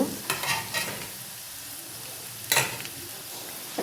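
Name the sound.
stirring semolina upma in a pan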